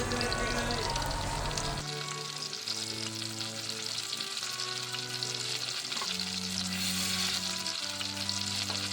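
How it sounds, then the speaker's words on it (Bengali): Garlic cloves, red chili and tomato fry in hot oil, giving a loud, steady sizzle and crackle close by, with some stirring scrapes and brief pauses in the hiss. "ওই গরম তেলে রসুনের কোয়াগুলো দেব, লাল মরিচটা দিয়ে দেব এবং টমেটোটা দিয়ে দেব"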